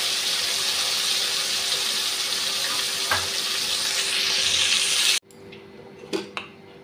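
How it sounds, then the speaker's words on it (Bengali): Fish frying in hot oil, a loud continuous sizzle and hiss close by that cuts off abruptly, followed by quieter clinks and a couple of soft knocks of cookware. "তেল গরম হয়ে গেছে, মাছটা ভেজে নিচ্ছি।"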